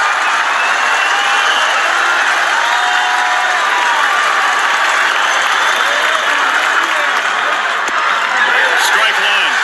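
A baseball stadium crowd of more than 17,000 rises to its feet, cheering and applauding in a loud, sustained roar that fills the whole stretch, with whistles and shouts rising briefly near the end.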